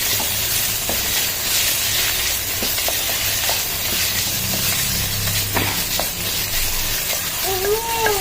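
Tomatoes sautéing in a pan for vegetable biryani give a continuous loud sizzling hiss, dotted with small pops and faint utensil ticks throughout, with no talk.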